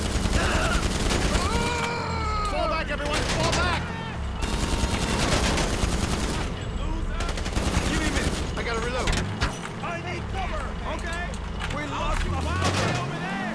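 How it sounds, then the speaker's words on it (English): Gunfire in the online video game GTA5 Online during a drug-lab mission, dense bursts and rapid volleys running throughout at steady loudness, mixed with game engine and vehicle noise, while a player's voice talks over it. "so we're just gonna shoot other people to bits, clear everything out a little bit"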